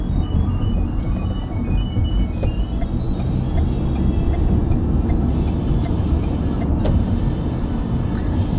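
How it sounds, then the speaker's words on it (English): Road traffic of cars along Wanamaker, a busy commercial street with a 40 speed limit, heard as a loud, continuous low engine and tire rumble from inside a moving vehicle, with passing swells. "It's quite a lot of traffic along Wanamaker, as there's a lot of restaurants, shopping."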